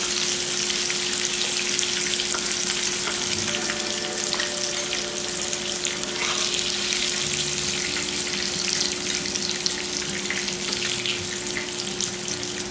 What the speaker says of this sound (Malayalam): ബാക്കിയുള്ള ചിക്കൻ ഇതുപോലെ നമുക്ക് ഫ്രൈ ചെയ്തെടുക്കാം.